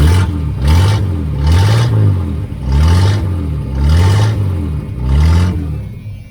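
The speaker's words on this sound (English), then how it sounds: "you can hear that exhaust." A 1978 Chevy Nova engine revs up and drops back five times in a steady rhythm, the exhaust note rising and falling loudly with no voices; the tailpipe is missing.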